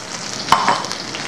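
Chili, garlic and ginger slices with scallion stir-fried in plenty of hot oil for a pork liver dish, giving a brief sizzle and a short scrape of the spatula over steady frying hiss, close and moderately loud.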